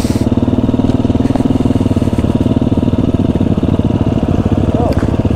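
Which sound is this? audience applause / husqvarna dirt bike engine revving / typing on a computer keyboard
husqvarna dirt bike engine revving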